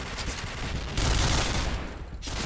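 Rapid automatic gunfire from a Famas G2 rifle in the Point Blank shooter game, a dense continuous rattle of shots filling the whole stretch, loud and close, with brief shifts in intensity.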